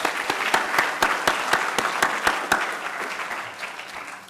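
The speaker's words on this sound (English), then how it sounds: "Give yourself a round of applause." Audience applause fills the room at the 30th annual Writers Workshop poetry and music celebration: a steady, dense wash of clapping with a few sharp, loud claps standing out, slowly thinning toward the end.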